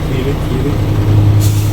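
A truck's air brake releases in a burst of high hiss near the end, over steady low engine rumble, with no talk in between.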